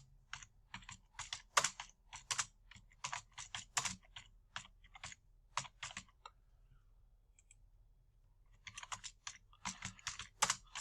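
Fingers tap out a question on a computer keyboard in bursts of quick clicks, close and clear, with a pause of about two seconds before typing resumes; no one speaks.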